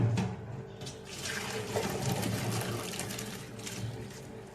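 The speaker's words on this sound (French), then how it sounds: "On va les passer à la passoire." Cooked macaroni pours from a pot into a colander, a soft continuous splash and gurgle of draining water at moderate distance.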